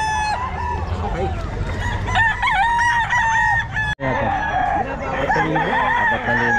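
A Boston Roundhead gamefowl rooster crows loudly and close at a busy pet market, its long harmonic call repeating twice with a brief break, over steady crowd murmur and other birds.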